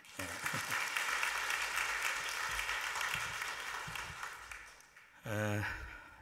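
A church congregation claps in sustained applause during a worship service, a dense even patter of many hands lasting several seconds before fading, followed by a brief voice.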